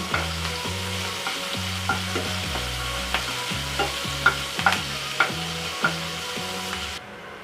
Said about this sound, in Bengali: আমি দুটা পেঁয়াজ আর দুটা কাঁচামরিচ কুচি করে নিয়েছি এটাকে আমি ব্রাউন কালার করে ভেজে নিব